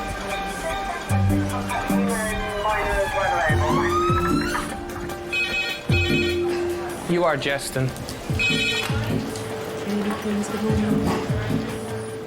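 An emergency department's red phone rings in repeated electronic bursts amid busy hospital background noise, with people talking over it.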